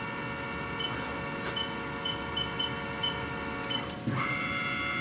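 A Haas VF3 CNC vertical machining center spindle turns at about 3,000 RPM, a steady mechanical hum layered with high tonal whine, with faint clicks and a brief knock near the end.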